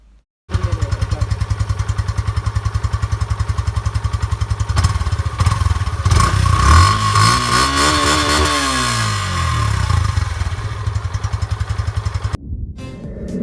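A Yamaha FZ-S version 3.0 motorcycle exhaust note rumbling steadily at idle, loud and close, rising into a throttle blip partway through before settling back to a thumping idle.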